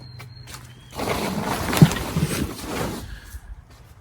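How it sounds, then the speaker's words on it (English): A 220-volt motor pumping from a rainwater tank, switched on by a float switch, gives a steady broadband mechanical whir that swells for about two seconds before fading, close by, with no talking. "the float switch activates this motor here"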